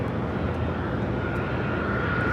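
An airliner taking off from Los Angeles International Airport: a steady, broad jet engine roar with a high whine, holding at constant loudness throughout, heard alone with no talk.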